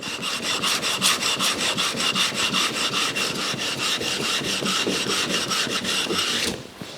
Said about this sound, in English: I'm just going to finish it off now on the diamond with a diamond plate, just to hone that edge a bit